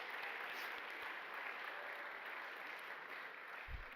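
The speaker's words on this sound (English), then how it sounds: "Give yourselves a round of applause" Applause for graduating student athletes at the RAMMIES 2022 awards, a steady, fairly faint wash of many hands clapping that fills the whole stretch without a break.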